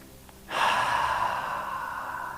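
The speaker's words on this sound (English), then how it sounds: "We're just going to take some light breaths." A single long, light exhale during a yoga session begins abruptly and flows on as an airy, breathy rush that slowly fades.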